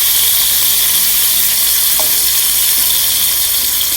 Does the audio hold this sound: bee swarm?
no